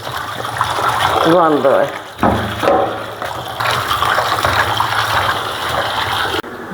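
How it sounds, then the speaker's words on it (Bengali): Water gushes and splashes from a tap as fish is washed, loud and uneven with short pauses, while someone talks over it. "তাই মাছটা আবার ধুয়ে নিতে হয়"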